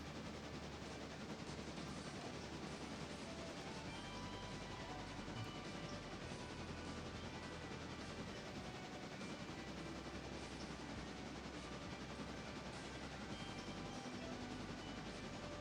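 A train rolling along the tracks in the railway game Railroader, a steady rumbling drone with faint repeated clacks, continuous and even throughout.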